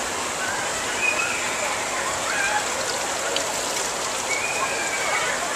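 Water pouring steadily from a natural spring in Paris, a close, continuous rushing and splashing with an even level and no breaks.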